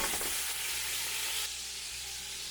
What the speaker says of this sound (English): I have taken the same ghee in which I have fried the onion. Now I'm going to add the meat inside of this.